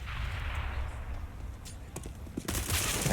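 Submachine gun fire in a Counter-Strike match on the Cobblestone map during a tournament, crackling bursts and shots at middle distance over a steady low rumble, growing denser and louder toward the end.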